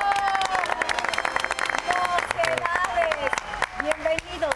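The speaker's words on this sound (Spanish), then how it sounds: "quiero pedirles un muy fuerte aplauso para" A television studio audience applauds the arrival of the Spanish vocal group Mocedades, with bursts of clapping mixed with cheering, whistles and lively crowd noise, with voices and tonal sounds running through.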